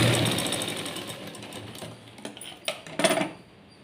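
A sewing machine runs steadily while stitching a blouse, with a dense mechanical whir throughout and a few sharper clicks and knocks near the end.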